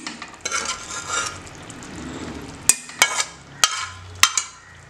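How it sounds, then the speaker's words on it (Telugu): Boiled peas and fried potatoes are stirred into an aloo matar curry in a pan, making a soft steady scraping and sizzling that ends in a few sharp clinks of the spoon against the pan. "ఇప్పుడు ఇదంతా ఒక మంచి మిక్స్ ఇచ్చేసుకుందాం."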